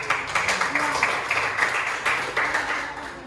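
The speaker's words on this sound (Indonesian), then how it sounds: "Tepuk tangan buat kelompok" A classroom of students applauds a group after its presentation in a social studies lesson, a steady dense patter of many hands clapping for a few seconds with some voices mixed in.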